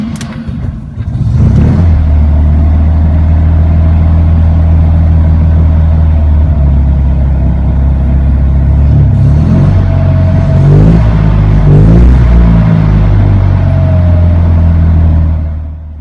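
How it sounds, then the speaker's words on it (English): A Fiat 126p's small engine starts up and settles into a loud, steady idle, revving briefly a couple of times near the end. "But the sound of that engine, unmistakable. Let's listen to it."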